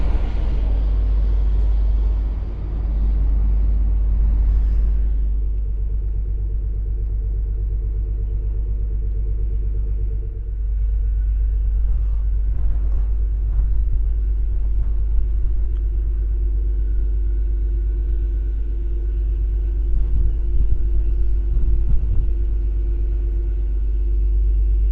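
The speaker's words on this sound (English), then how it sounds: "There goes the hovercraft again." Hovercraft passing near a ferry bound for the Isle of Wight, heard from on board: a loud, sustained low droning rumble with steady engine hum tones throughout, no speech.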